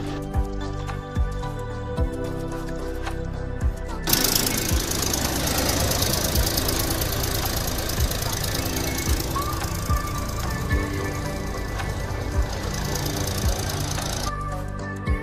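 A tractor pulls a bed-making implement with a rear roller across a watermelon field, its engine knocking and rumbling steadily nearby with rhythmic thuds and an occasional squeal.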